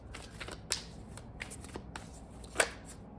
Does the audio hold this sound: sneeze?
no